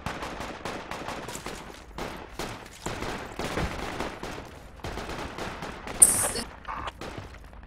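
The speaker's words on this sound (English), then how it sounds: "I'm gonna start firing from here." Gunfire in Project Reality, a rapid series of distinct shots and bursts at varying distances, steady volleys with a sharper crack near the end, no speech.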